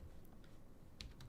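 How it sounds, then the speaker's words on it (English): Typing on a computer keyboard, a few faint, quick clicks of keys close by in an otherwise quiet room. "If I could type, I'd pull this up."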